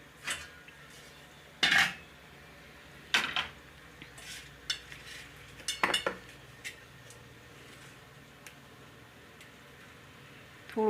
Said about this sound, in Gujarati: તો લોટને આપણે સાળી લેવું।